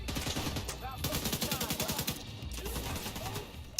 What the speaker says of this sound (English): I have an LMG as my other gun.